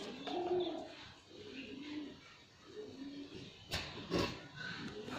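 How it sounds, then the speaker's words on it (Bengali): Soft, low cooing from a nearby female pigeon repeats a few times against quiet background, broken by a couple of brief rustling knocks. "এটা একটা মাদি কবুতর"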